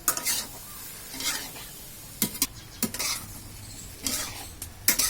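Okra sizzles and fries in a pan while a utensil stirs and scrapes it in several distinct bursts, close and clear over a steady background sizzle, with no talking.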